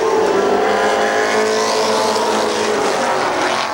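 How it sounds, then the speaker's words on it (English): Race cars at Columbus Motor Speedway during the 1996 Race of Champions roar past loudly together, a dense continuous engine drone with pitch sweeping as the pack passes close by. "I believe Jeremy's got a quicker car and looks like he's going to get by Richard here"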